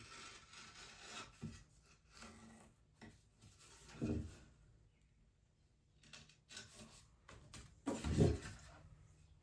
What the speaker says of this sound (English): I like to cut the excess off as I go.